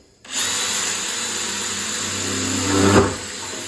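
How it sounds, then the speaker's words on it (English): A power drill whines steadily into metal, drilling a pilot hole before a Klein Tools 89552 hole cutter, its pitch rising and straining slightly near the end as the bit bites through. "you're going to first drill your pilot hole"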